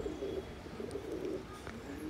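A pigeon with pearl-colored eyes, kept for sale, coos in soft low repeated calls across the whole moment, close to the microphone, with no talking.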